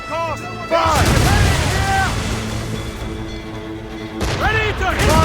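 Warship cannons booming in Assassin's Creed Rogue naval combat, a heavy blast near the start and another near the end, with shouting crew voices over the sea battle.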